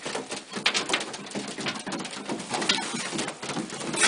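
A flock of pigeons gathered close by, with soft overlapping cooing, rustling and fluttering, and a busy patter of feet and wings throughout and nobody talking.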